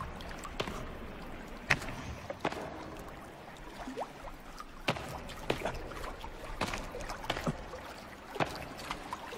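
Rushing water from a waterfall in the survival game The Forest roars as a steady wash, with scattered clicks and splashy knocks over it and no talking.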